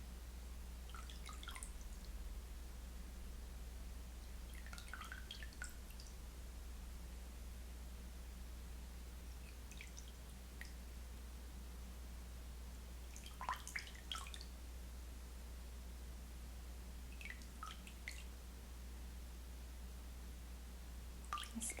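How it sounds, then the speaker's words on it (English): Sparse water drips fall in small clusters every few seconds over a steady low hum and faint hiss, quiet and close. "I like water sounds and I hope you do too."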